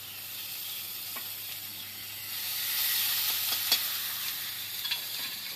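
Chopped tomato frying in a pan for a Bengali fish curry, a steady hiss and sizzle that swells slightly midway, with a few sharp clinks and scrapes of a spatula stirring.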